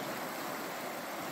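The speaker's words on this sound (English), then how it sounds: "This whole river where it's accessible looks like that, just fast ripples." A fast, rippling river stream runs as a steady, even rushing hiss of water, close and unbroken, with no voices over it.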